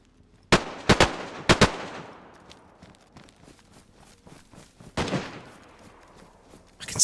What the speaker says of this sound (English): I can still hear the shots